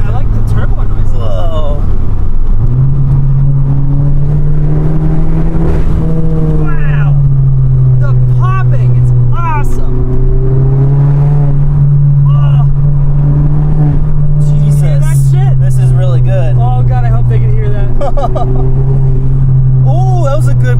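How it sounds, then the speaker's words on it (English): Mk7 VW Golf GTI accelerating hard, its engine drone rising and settling through quick gear changes with turbo whoosh and a wastegate flutter, heard from inside the cabin beneath excited talk from the occupants. "This is fun. I like the turbo noise."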